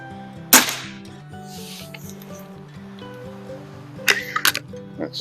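A Weihrauch HW80 air rifle fires a pellet with one sharp, loud crack early on, then a quieter metallic clatter of handling a few seconds later against a steady faint background hum.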